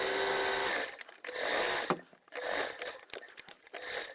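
A sewing machine runs a loose basting stitch through fabric for a multi-compartment bag, sounding in several short close bursts of whirring with brief pauses between them.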